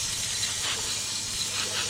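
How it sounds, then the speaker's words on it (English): Water sprays steadily over a motorcycle during rinsing, a constant close, even hiss with no voices. "we're just going to rinse it all right back off again."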